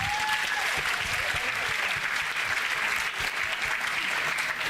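A church congregation claps for Jesus during a service, a full, steady burst of hand clapping that carries at an even level from start to finish.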